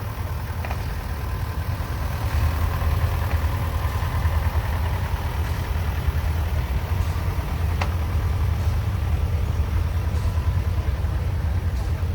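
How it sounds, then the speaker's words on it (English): A 1953 McCormick Deering Super WD6 antique tractor engine idles continuously at a parade, a low, steady rumble, loud and close, with a faint click or two on top and no talking. "It's a 1953 McCormick Deering Super WD6, owned by Jamie Neal out of Mount Orr."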